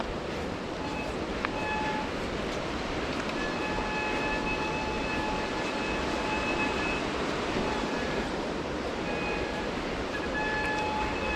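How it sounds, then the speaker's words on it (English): A bicycle's rear brake squeals thinly and high-pitched, rising and fading several times over a constant rushing roar of wind and rolling noise. "My back brake is howling in protest."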